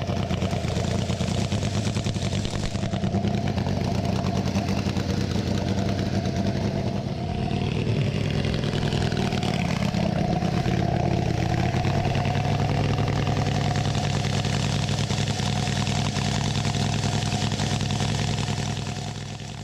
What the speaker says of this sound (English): this 1912 French Verdel with its radial engine. A machine which they would fire up and demonstrate to the crowd.